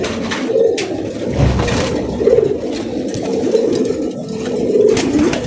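A male fancy racer golla pigeon in a breeder's loft coos loudly and close, giving a series of repeated rolling coos across several seconds with no talk over it.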